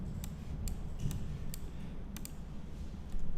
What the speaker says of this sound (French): j'enfonce la touche tabulation sur le clavier, la touche tab pour valider